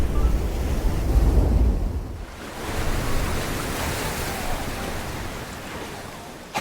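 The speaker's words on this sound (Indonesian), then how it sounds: "Tapi tiba-tiba rakit Bradley langsung rungsek setelah dihajar ombak besar" Big ocean waves crash off a deserted island and wreck a raft, a loud roaring surge that eases briefly midway before a second broad wash of surf and spray rolls in.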